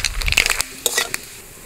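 Mustard seeds hitting hot oil for tempering a spicy fish curry, giving a burst of crackling sizzle with sharp pops over the first half-second, then a few scattered spits fading into a quiet hiss.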